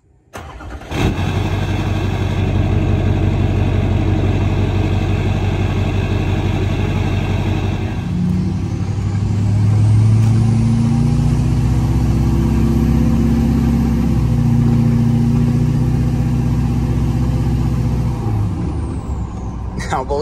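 A car with its resonator removed starts up and idles with a loud, deep rumble. It then revs with a rising, droning exhaust note, heard up close.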